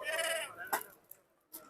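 A goat bleats once, loud and wavering, at a busy goat market in Talagang, Pakistan, followed by a few faint clicks and rustles.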